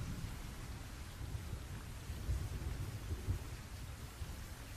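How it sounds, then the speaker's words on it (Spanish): Low, steady rumbling of thunder beneath a continuous wash of rain, with a couple of slightly louder swells midway. "Ahí tienen el trueno."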